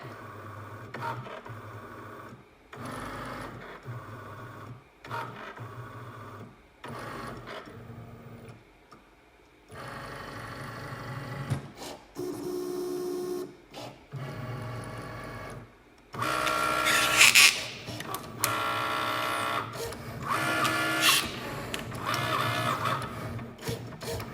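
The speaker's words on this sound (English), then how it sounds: "And that's going to tell your Cricut where to cut." A Cricut cutting machine reads the registration marks around a printed card and then cuts, giving a run of mechanical whirs, ticks and carriage movements with short pauses, louder and busier toward the end.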